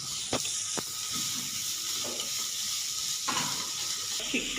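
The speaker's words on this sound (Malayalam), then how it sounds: "നന്നായിട്ട് മിക്സ് ചെയ്യുക." Cabbage, carrot and other ingredients are tossed and stirred in a hot pan for butter chicken, a steady sizzle broken by a few scraping strokes of the spoon.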